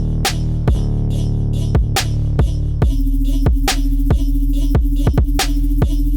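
An electronic bass drop made in Ableton plays with the hi-hats removed: heavy kicks and a deep sustained bass in a steady, sparse groove, loud and alone without talk.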